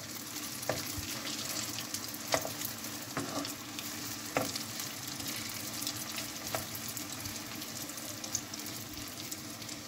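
Potato cheese rolls fry in hot oil with a dense, constant sizzle and bubbling, punctuated by occasional light pops and crackles as they cook to golden.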